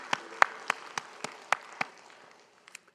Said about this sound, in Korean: 우리 하나님 앞에 영광의 박수 올리겠습니다